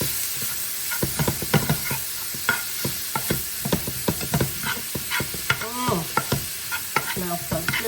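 Onion and garlic sautéing in oil, a close, busy sizzle broken by repeated scraping stirs of a utensil in the pan, with no voices.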